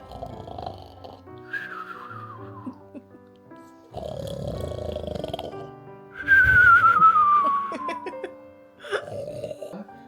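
A voice imitates snoring with rasping breaths and whistling exhales, repeated several times in a quiet room.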